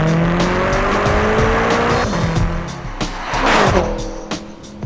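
A 2014 BMW M5 Competition Package sedan weighing 4,400 pounds accelerates hard, its engine rising through the revs with a brief dip as it shifts gear and tires scrabbling, loud and close.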